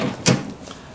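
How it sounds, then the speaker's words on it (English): A point-of-sale cash drawer, triggered by an Epson TM-m30II receipt printer, springs open with a sharp knock as it strikes a camera stand, followed by a faint rattle. "And our cash drawer opens and smashes into the camera stand."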